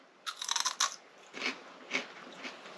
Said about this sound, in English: This is just a snap pea, but it's crunchy and delicious.